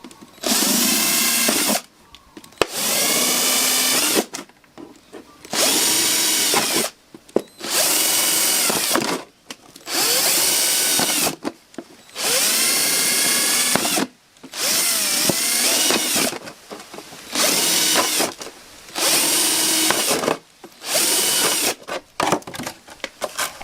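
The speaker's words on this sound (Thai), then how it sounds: "เจาะรูด้านล่างนะคะ" A power drill bores holes through the bottom of a recycled plastic milk bottle being made into a planter, in about ten loud whirring bursts of a second or two each, separated by short quiet pauses.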